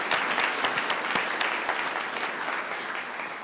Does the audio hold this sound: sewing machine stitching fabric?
no